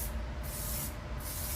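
Makeup setting spray released as a continuous fine mist, a steady close hiss that runs for about a second and a half with no talking.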